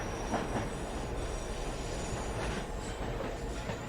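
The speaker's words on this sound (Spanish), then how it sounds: "escuché el típico y estridente ruido que hacen los trenes al llegar" A metro train pulls into an underground station with steady, loud rumbling, a high screech from the wheels and faint clacking from the rails, with no voices.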